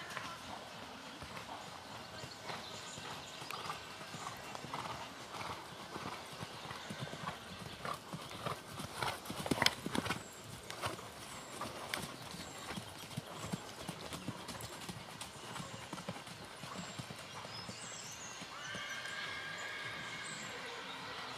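Horse hoofbeats clop steadily in a riding arena at a canter, a continuous rhythmic drumming on soft footing, heard at moderate distance and fairly faint.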